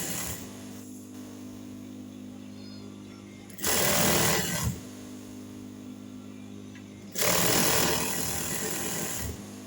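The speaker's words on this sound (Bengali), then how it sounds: "এখন আমি নিচের এই সেলাইটা, এই কাপড়টা সেলাই করে নিচ্ছি।" A sewing machine stitching the hem of blouse fabric, running in two loud bursts of rapid stitching separated by a quieter stretch of background hum.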